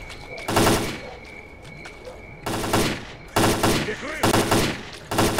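Automatic gunfire in the video game STALKER: Clear Sky, loud rapid bursts that repeat several times during a firefight, with short quieter gaps between volleys.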